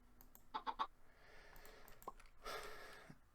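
Chickens in the Minecraft Stoneblock 2 modpack give a quick run of soft clucks, followed by a few faint scattered game noises over a quiet background.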